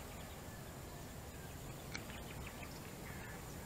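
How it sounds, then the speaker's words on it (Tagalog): Faint bird chirps come through scattered in the morning air outdoors in Naic, Cavite, set against a steady wash of wind and distant ambient noise. "Yan ang maririnig mo sa umaga. Simoy ng hangin. Mga ibon."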